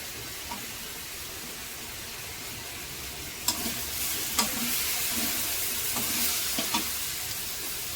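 Green chillies fry in a pan with a steady, fairly loud sizzle, broken by a few light clicks and scrapes as they are stirred.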